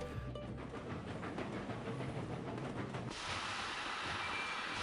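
A train in Sid Meier's Railroads runs along the rails with a steady rumble and rhythmic clatter. The sound changes to a brighter, hissing wash partway through. No one speaks.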